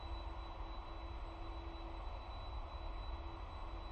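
Aircraft engine noise inside a flight simulator game while taxiing, a steady, even drone with a constant whine that holds unchanged throughout, with no talking.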